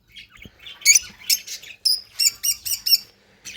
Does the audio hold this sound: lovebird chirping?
yes